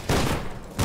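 Two close shotgun blasts fire in F.E.A.R. 2, heavy loud bursts at the start and end of a short stretch with a brief decaying tail between them.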